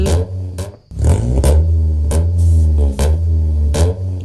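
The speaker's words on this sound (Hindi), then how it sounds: "अबे ये कैसे आवाज आ रही है गाड़ी की?" A video game car engine hums loudly and steadily, its tone rising and falling slightly as it runs, with a few sharp clicks cutting through the drone.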